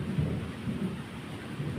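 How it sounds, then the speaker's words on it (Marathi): Thunder rumbles low and steady through an evening rainstorm in Konkan, with a continuous wash of rain in the background and no voices. "संध्याकाळचे वातावरण आणि पाऊस बघा उठला घडगडतो"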